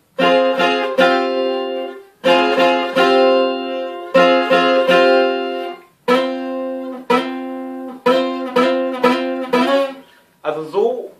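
Guitar chords strummed repeatedly in short rhythmic bursts with brief gaps between phrases, clear and close, no voices.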